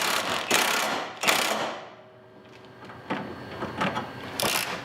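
A hand ratchet tightens a bolt on a lower control arm of a 2005-2014 Ford Mustang GT, sounding as a few sharp clicking bursts with a quiet pause in between.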